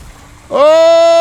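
A car engine in a video game revs up suddenly and holds a loud, steady synthetic drone with a strongly tonal, buzzy character after a brief quiet lead-in.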